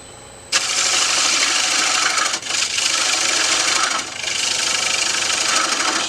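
A 3/8 gouge cutting a beech live-edge bowl on a wood lathe, a loud continuous rough whirring scrape that starts abruptly and briefly dips twice as the cut eases.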